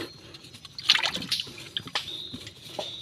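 Water runs and trickles nearby in irregular splashing spurts while crabs and shrimp are being gathered, with a few louder sloshes and no talking.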